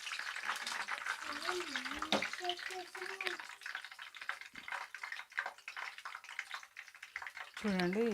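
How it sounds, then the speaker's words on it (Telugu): Curry leaves fry in hot oil, a steady crackling sizzle with scattered pops and stirring scrapes, while someone speaks over it and brief tonal beeps sound now and then. "చూడండి ఇలా వేయించుకోవాలి కరివేపాకు."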